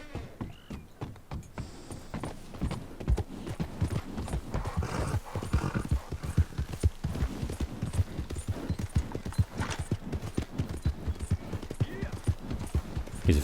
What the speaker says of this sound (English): He's a fine horse.